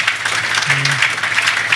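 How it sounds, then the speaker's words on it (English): Applause from a large audience at a business gathering celebrating a restaurant group's 1,000-seat banqueting venue, a dense, steady wash of clapping with a faint voice murmuring beneath it. "I think that deserves a round of applause"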